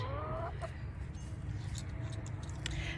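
A hen clucks softly nearby, short scattered clucks over a steady low background hum in a backyard chicken setting.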